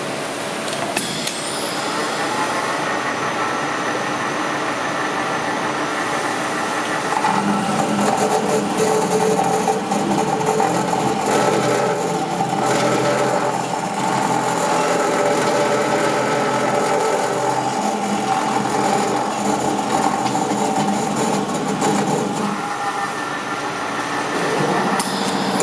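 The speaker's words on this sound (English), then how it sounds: "So I'm going to cut this pipe at about 30 RPMs right in the middle." Scotchman 14-inch semi-automatic variable-speed cold saw turning at about 30 RPM through 1-inch schedule 40 steel pipe, a steady, loud grinding hum with a high whine, rising into a rougher cutting roar midway before easing off.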